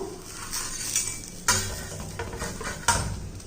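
A jowar dosa being turned over in a pan, a soft sizzle under two sharp scraping clanks of a spatula against the metal, close and without talk.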